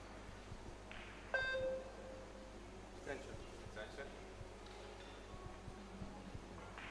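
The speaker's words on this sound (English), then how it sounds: "Beep of the shot clock just disturbing him" A single short electronic shot clock beep rings out under quiet commentary and a low hum in a hushed pool hall during a mixed doubles match.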